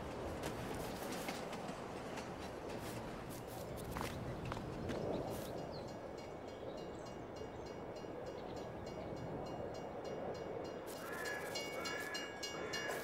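A train rolling in during Farming Simulator 22, steady rumbling rail noise with clicks and clacks running throughout at moderate level, plus scattered knocks and a faint horn-like tone near the end.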